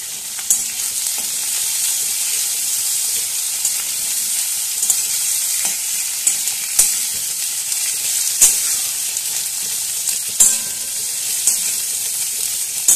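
Onion and crushed garlic fry in a pan for kochu shak with hilsa head, giving a continuous close sizzle with a spoon repeatedly scraping and clinking at the pan, and nobody speaking.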